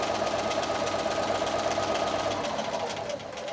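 A sewing machine sews a seam along a marked line, with back stitching. The motor gives a steady, fairly loud rhythmic drone that eases slightly toward the end.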